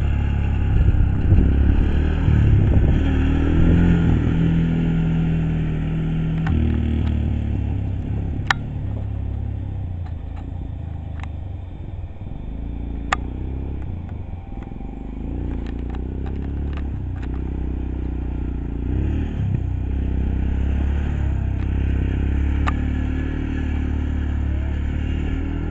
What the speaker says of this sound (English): John, try driving around the shed so I can zoom there too.